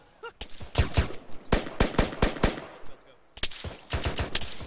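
AK rifle gunfire in a combat exchange, heard as a string of loud, sharp cracks fired in quick bursts with brief gaps between volleys, close by and mostly alone with no talk over it.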